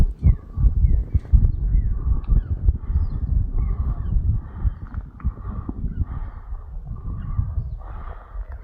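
Birds call at Mansarovar Lake in the morning: loud, repeated honking cries, goose-like, sound close by, one after another, over a low rumble of background noise.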